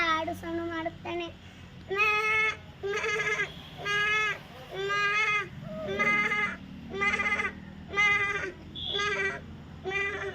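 A first-grade schoolchild imitates a goat, giving about nine loud, wavering bleats in a steady rhythm, close to the microphone with short pauses between them.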